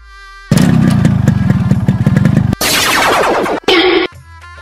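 A motorbike sounds in a comedy sketch set near a mango and papaya orchard, starting abruptly with a loud, rough engine roar, then a rising whine and short bursts as it rides off, with no talking.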